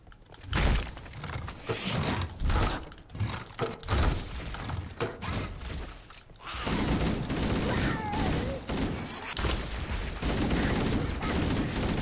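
Assault rifle gunfire rattles in Halo: Combat Evolved Anniversary during a fight with jackals, dense bursts of automatic fire mixed with game noise, fairly quiet overall.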